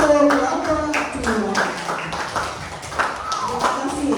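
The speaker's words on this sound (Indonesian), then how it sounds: "Beri tepuk tangan untuk kelompok 2." Applause for a student group in a classroom, a burst of many hands clapping at close range that continues steadily, with voices mixed in.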